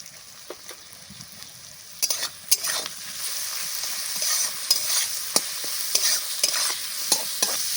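Garlic cloves and onion fry in a pan with salt and turmeric, a steady sizzle under frequent crisp spatula taps and stirring scrapes that grow busier partway through.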